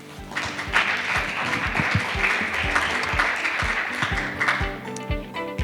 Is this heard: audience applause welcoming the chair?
yes